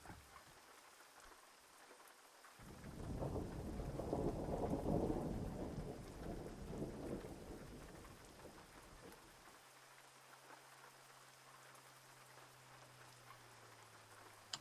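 Thunderstorm in American Truck Simulator: a deep rolling thunder rumble swells and fades over steady rain, followed by a low droning hum, with no talk.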